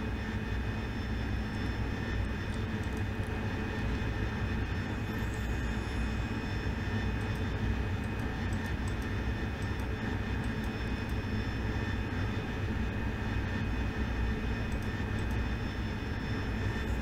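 AV-8B Harrier jet engine in the DCS flight simulator, a steady, loud broadband roar with a constant whine, holding evenly throughout with no talk over it.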